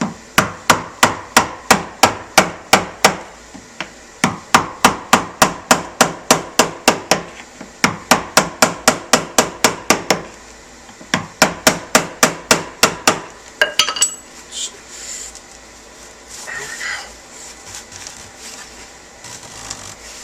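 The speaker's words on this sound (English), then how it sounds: "use a screwdriver and a hammer to remove the lockdown ring" A hammer drives a screwdriver against the fuel tank lock ring of a 1997-2001 Jeep Cherokee XJ, giving quick bursts of sharp metallic knocks with short pauses, then dropping to quieter scraping and handling noises.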